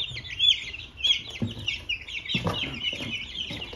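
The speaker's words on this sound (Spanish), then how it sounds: "Ahí están los dos pollitos de engorde." Young broiler chickens in a morning poultry-care routine, a dense, close chorus of high peeping and clucking calls with a few soft thumps underneath.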